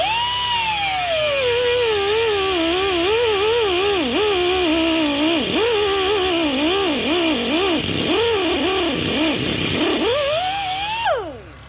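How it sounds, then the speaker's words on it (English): A cutoff wheel slices through a rear axle part near a brake line, giving a loud, continuous high-pitched grinding whine whose pitch wavers up and down as the load shifts, running for about eleven seconds before it stops abruptly. "I'm going to take my cutoff wheel, this thing here, and I'm going to slice this"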